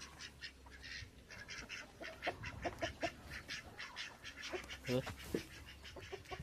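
Ducks quack repeatedly around a farmyard duck enclosure, a mix of short calls at moderate distance with some louder bursts, scattered over background noise.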